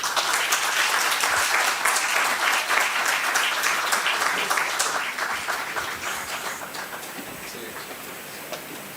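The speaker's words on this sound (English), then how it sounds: "I think we should give him another round of applause." Dense, sustained applause from a lecture audience after a memorial lecture, steady and close for several seconds before gradually thinning and fading toward the end.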